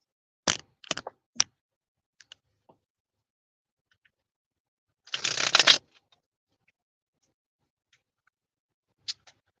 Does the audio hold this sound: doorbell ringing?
no